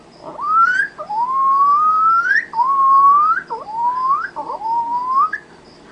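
A voice imitates a guinea pig, making a series of rising whistled squeaks in quick succession, close and fairly loud, with no talking.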